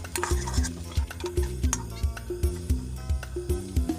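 Wonton strips crisping in a hot wok, a steady loud sizzle broken by a regular rhythm of metal scrapes and knocks from a spatula against the wok.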